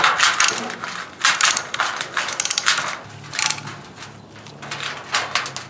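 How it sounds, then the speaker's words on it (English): Brake caliper pistons on a Honda Pilot are pushed back in, giving bursts of creaking, ratcheting mechanical clicks and scrapes in irregular clusters, close and fairly loud, with no speech. "Let me push the pistons in."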